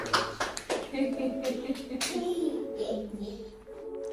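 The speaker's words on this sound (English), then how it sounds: "Clap for Mama and Adrian." A family at home claps hands in a few scattered, uneven bursts while a voice and other voices talk over and between the claps.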